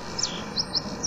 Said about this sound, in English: The birds are having a sing.